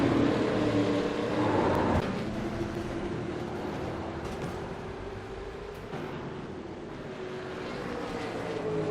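Racing car engine in the iRacing sim at Bathurst, a steady droning roar that rises and falls with throttle, with a brief surge early on and continuous mechanical noise throughout, no voices.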